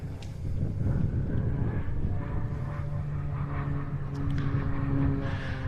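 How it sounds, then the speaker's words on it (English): Steady drone of a single-engine aerobatic display plane with a 320 horsepower six-cylinder engine, flying at an airfield flying day, a continuous distant roar with wind buffeting the microphone and no speech. "A 320 horsepower, 6-cylinder engine."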